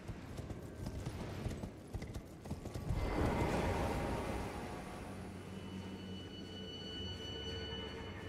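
A horse gallops in the video game Elden Ring, quick rhythmic hoofbeats thudding steadily at a quiet level with some background game ambience.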